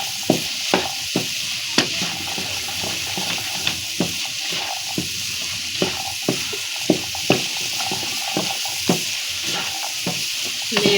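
Eggs fry for an egg-and-pea curry while a spoon stirs them, a continuous close sizzle broken by regular clacks of the utensil against the pan, heard alone.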